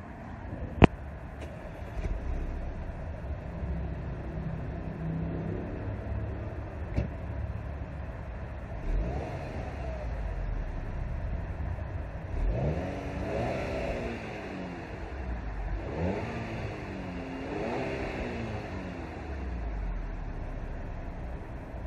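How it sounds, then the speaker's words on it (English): A warm 2014 Audi A4 engine idles steadily, then revs up in several rising and falling bursts, fairly close and continuous with no talking. "All right, I'm gonna start it up. Do like some revs."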